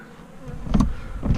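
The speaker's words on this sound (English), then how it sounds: "now you got your bees in your SD catcher." Bees buzzing inside a bee vac catcher, a close, steady insect drone that swells louder toward the end.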